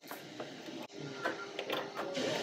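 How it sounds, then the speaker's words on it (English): A sewing machine stitches a sleeve onto a garment, running in steady continuous bursts with a brief pause partway through, close and fairly loud with no talking. "After finally getting them pinned on without any excess bunching, start sewing."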